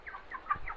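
Broiler chickens about 33 days old on a poultry farm give a few soft, close clucks in a short, steady series, with no speech.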